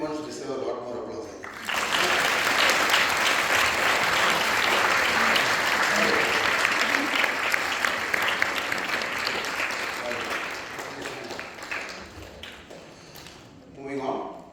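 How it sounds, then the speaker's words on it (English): Sustained applause from an audience at a Carnatic music school's annual student awards day, hearty clapping rising quickly, holding for about ten seconds, then tapering off. "These young ones deserve a lot more applause."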